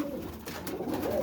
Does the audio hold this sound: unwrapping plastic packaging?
no